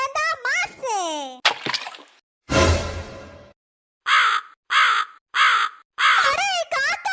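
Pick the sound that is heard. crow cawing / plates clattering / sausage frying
crow cawing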